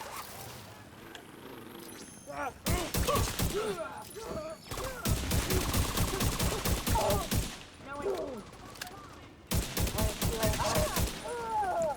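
Bursts of rapid video-game gunfire crackle loudly in long automatic volleys, stopping briefly between strings of shots, with a low voice talking underneath at times.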